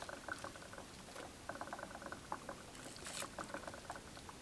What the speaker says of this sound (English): do you hear that noise it means it's already filling